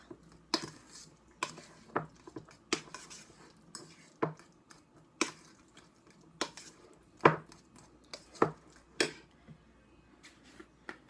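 Guacamole ingredients are stirred and mashed in a bowl: irregular scraping and clinking knocks of a utensil against the bowl, close and fairly loud, with quiet gaps between strokes and no talking.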